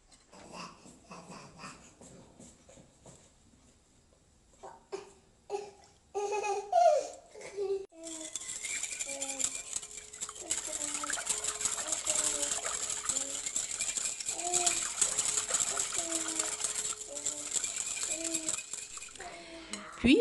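Doughnut batter is whisked in a bowl as vegetable oil is added, a rapid, continuous clatter of whisk on bowl. It comes in after a quieter stretch of scattered clinks and louder bumps, with bright faint music playing alongside.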